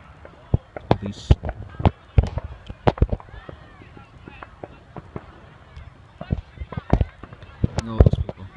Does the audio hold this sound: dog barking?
no